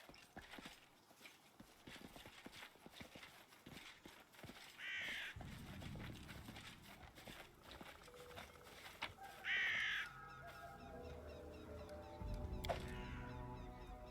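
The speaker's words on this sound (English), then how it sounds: "that was a bunch of crows. Or ravens. Some sort of corvid." A group of crows or ravens caws several times at a distance, the calls mixed with clip-clopping hooves and other outdoor sounds, with no talk over them.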